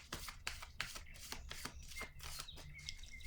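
Tarot cards are shuffled and drawn at close range, a quiet stream of rapid papery flicks and riffles with brief slides of card against card.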